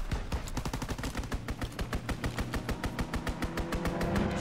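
Rapid, evenly spaced bursts of automatic gunfire from a strafing run in a video game, a loud steady rattle running the full length without pause or voices.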